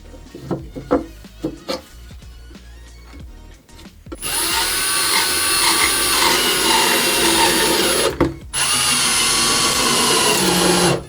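A power drill drives screws to fasten an end piece with a glued gasket onto a wooden ventilation box for an isolation booth. Light clicks and taps come first, then two long, loud whirring bursts close by.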